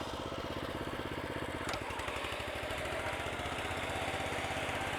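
A reel mower works across a sloped yard, giving off a continuous, rapid mechanical pulsing whir up close that holds steady at moderate volume, with one brief sharp tick midway and no talking.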